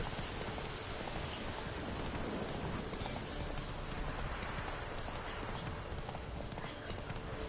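Hooves of the horse in The Witcher 3 video game clip-clop in a fast gallop under a steady hiss of rain, continuous and dense, with game voices faintly mixed in.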